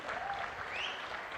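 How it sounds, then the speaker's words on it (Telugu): Crowd applause at a public government meeting with officials on stage, faint and distant clapping holding steady for a brief moment. "గట్టిగా చప్పట్లు కొట్టండి"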